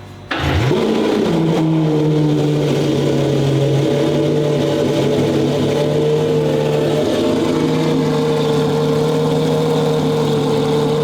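A modified Porsche engine fires up and settles into a loud, steady high idle with a strong harmonic drone, close by and unbroken after the initial start-up burst.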